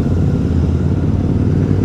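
Royal Enfield Continental GT motorcycles with loud short-cone exhausts rumble close by in rain, a deep continuous throaty engine note with no talking.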